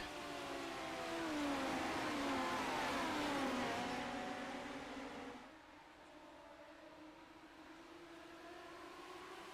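Midget race cars in the iRacing simulator, their engines droning and revving in overlapping tones as the pack swells past, then fades to a steadier, quieter hum.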